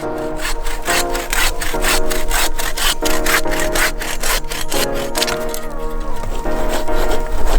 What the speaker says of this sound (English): we've notched it with a bow saw